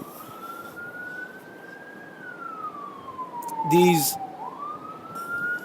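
A distant police siren sweeps slowly up and down in a long continuous wail, growing a little louder toward the end, with a brief spoken word cutting in partway through.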